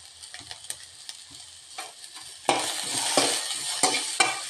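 Onions for a papaya masala curry are sautéed with a pinch of salt. A spoon taps and scrapes the pan a few times, then a loud, sustained sizzle starts and continues under more stirring.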